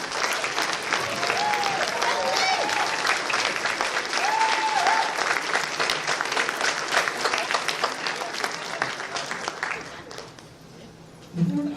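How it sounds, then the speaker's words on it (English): Audience at a convention closing ceremony applauding, a dense sustained round of clapping that tapers off near the end as a voice begins. "please stand up so we can give you a round of applause"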